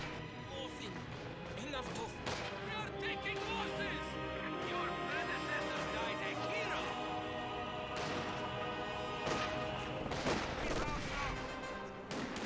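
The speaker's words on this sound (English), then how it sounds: "MG-42, LMG firing away" MG-42 light machine gun fire in a Company of Heroes 2 match replay: a busy, continuous battle din of rattling bursts and thuds, running under a steady stream of excited commentary.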